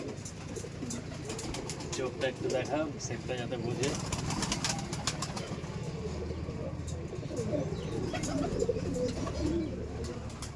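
Kaldam pigeons coo repeatedly in a breeding room, soft throaty calls recurring throughout under close conversational speech and rustling.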